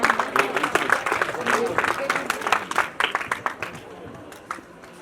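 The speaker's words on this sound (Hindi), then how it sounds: "महावीर गोदारा जी के लिए जोरदार तालियां।" An audience at a retirement ceremony claps in a dense burst of applause that slowly thins out toward the end, with a person talking over it.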